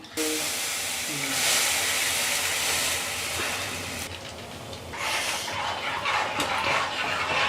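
A ground black pepper mixture for sambar is poured into hot tempering, producing a loud, sustained steamy hiss and sizzle that swells again partway through as more liquid hits the pan.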